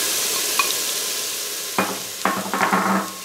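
Diced onion and fresh jalapenos sizzle in an Instant Pot while a utensil stirs them, with a soft steady fry building into several scraping stirs near the end.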